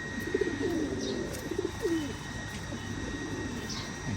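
Ferozpuri pigeons give a few soft throaty coos over a steady hum of background noise, with a couple of faint higher chirps.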